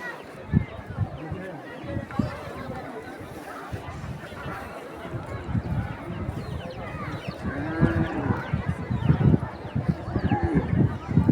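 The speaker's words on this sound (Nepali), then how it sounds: "अहिले जुटिराखेको गोरु" Bulls clash in a village bull-fighting contest in Gandaki, Nepal, with a noisy crowd shouting and talking throughout, and scattered low bellows and thuds rising over steady chatter.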